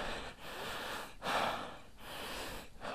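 Heavy, ragged panting after a steep climb up rocky ground toward a hilltop viewpoint, with loud breathy gasps close to the microphone in several uneven bursts.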